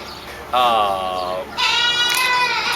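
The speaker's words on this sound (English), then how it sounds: "Of course, the goat's crying the whole time." A young goat on a farm bleats twice, loud and close, each cry wavering and drawn out. Faint background noise runs between the calls.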